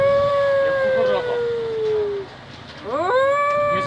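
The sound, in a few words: woman imitating a dog crying or howling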